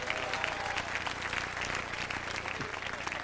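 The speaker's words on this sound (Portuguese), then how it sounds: "Aplauda ao Senhor com alegria nesta noite." A church congregation claps steadily at an evening service, a broad, continuous wash of applause with no breaks, some voices mixed into the crowd noise.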